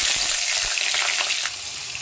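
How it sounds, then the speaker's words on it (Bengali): Brinjal pieces frying in hot mustard oil give a steady close sizzle with soft crackles and a few light stirring sounds, alone with no voices. "বেগুনগুলোকে লাল লাল করে ভেজে নেব।"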